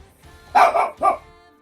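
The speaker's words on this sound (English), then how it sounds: "Sorry, it's my dog barking." Two sharp dog barks ring out close and loud, one right after the other, with quiet before and after.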